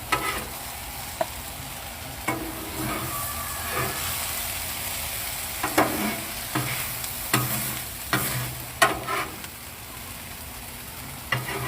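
Bacon fried corn dumped into a hot pan on a Blackstone griddle, a steady loud sizzle with repeated clinks and scrapes of a utensil stirring it, with no talk.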